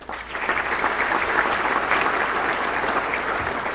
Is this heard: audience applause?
yes